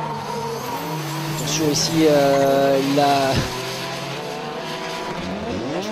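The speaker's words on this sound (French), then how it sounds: "le plan qui va suivre la Nissan S14 du pilote suisse Mickaël Perrottet sur le transfert dernier virage" A Nissan S14 drift car driven by Swiss driver Mickaël Perrottet sweeps through the final corner with a rising, revving engine and sustained tire squeal, while a commentator talks over it.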